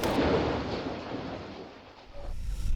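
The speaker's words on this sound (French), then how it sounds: "un 3 coups de canon" A cannon fires as a sound effect: a heavy, loud boom that rolls out and fades over a couple of seconds, with another rumble rising at the end.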